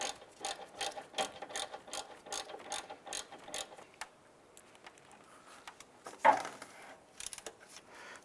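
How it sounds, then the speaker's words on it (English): A hand ratchet tightens the bottom bolt of a knock sensor on a 2011-2019 Ford Fiesta, with quick bursts of close, crisp clicking and a sharp knock near the end. "Let's go ahead and tighten up that bottom bolt."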